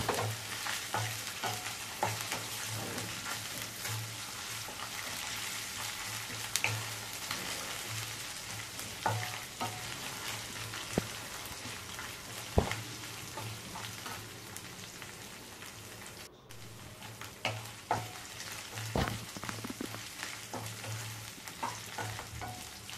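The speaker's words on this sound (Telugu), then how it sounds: "ఉల్లిపాయ దాంట్లోనే ఒక హాఫ్ స్పూన్ అల్లం వెల్లుల్లి పేస్ట్ వేసి పచ్చివాసన పోయేదాకా ఫ్రై చేసుకున్నాను" Sliced onion frying with ginger garlic paste in a pan, a continuous crackling sizzle broken by frequent sharp spatters and stirring knocks, close and steady with no talking.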